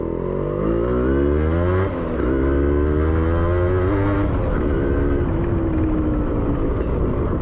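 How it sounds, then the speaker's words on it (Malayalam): A Yamaha RX 135 four-speed two-stroke motorcycle fitted with an Indonesian exhaust chamber revs loudly and close, its engine note rising and falling through several throttle blips. "അപ്പോൾ ഒരു ഇൻഡോനേഷ്യൻ ചാമ്പറൊക്കെ ആയിട്ടൊരു വണ്ടിയാണ്. ഇതിൻ്റെ സൗണ്ട് ജസ്റ്റ് ഒന്ന് കേൾപ്പിച്ചു തരാം."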